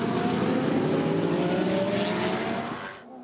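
GT race cars at the start of a race in the 2013 French GT championship, including a McLaren and a Ferrari 458, a loud continuous engine roar with rising revs that cuts off sharply near the end.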